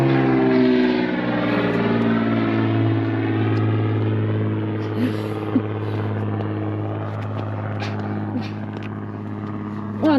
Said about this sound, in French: Oh, un avion.